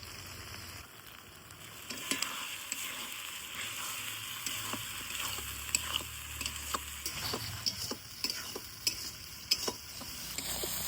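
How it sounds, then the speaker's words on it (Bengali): Snails being stir-fried with spices in a pan, a soft steady sizzle with scattered ticks and scrapes from stirring, fairly quiet and close, with no voices. "শামুকগুলা কিন্তু দশ পনেরো মিনিট পুরা দমটা একদম কষি নিয়ে নিয়েই"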